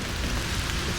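Steady rain falling in an autumn forest near Copenhagen, a dense continuous hiss of drops on wet leaves and ground, even and close, with no voices.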